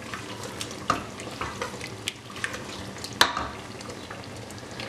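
Mutton qorma with chopped almonds and ground spices is stirred in a pot, with a low steady sizzle broken by scattered scraping clinks of the spoon, one sharper knock standing out, close and unaccompanied by talk.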